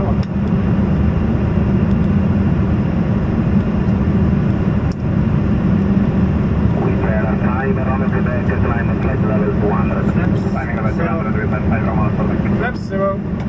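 Inside the cockpit of a Lufthansa Cargo MD-11F freighter in flight, a loud, constant broadband roar of engines and airflow fills everything, while crew voices and radio chatter speak over it.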